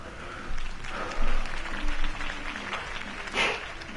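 A crowd applauds steadily in the Batman Telltale video game, the clapping swelling and fading in waves, with a brief louder burst near the end.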